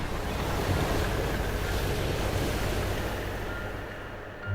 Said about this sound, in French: De violentes vagues poussent l'embarcation vers les côtes lointaines.